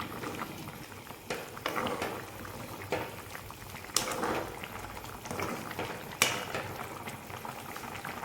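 Rojina and meat curry bubbling in a covered pot, a low steady simmer with occasional louder sputters and lid rattles, close by and alone.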